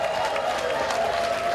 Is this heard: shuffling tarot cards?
no